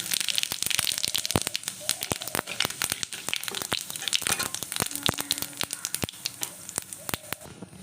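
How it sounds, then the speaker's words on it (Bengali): Cumin seeds crackle and sizzle in hot leftover oil from frying rohu fish in a kadai, with dense, continuous spitting and popping throughout, close and fairly loud, with no voice over it. "মাছটা ভেজে যে তেলটা বেঁচেছে ওই তেলটার মধ্যে একটু জিরে দিয়ে দেবো"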